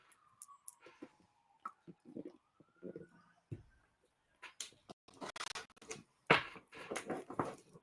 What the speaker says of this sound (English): You guys hear all the sirens going by?